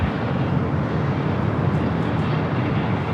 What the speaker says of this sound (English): Air France flight 23 heading back to Paris, up next for takeoff.